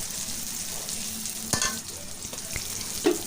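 Chicken curry masala with green chilies frying in a pan for a Bengali chicken and potato jhol, a steady close sizzle broken by a few sharp stirring clanks.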